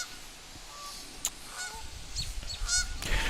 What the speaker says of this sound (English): The geese are right above me